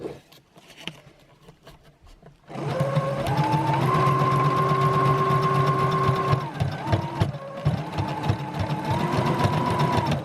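A sewing machine stitches ribbon onto socks, starting after a quiet moment with a loud, steady mechanical whir that runs for several seconds, breaks off briefly and then resumes at the same pace.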